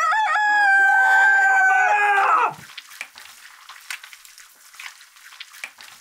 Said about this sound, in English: I loved mornings before, but now with the rooster,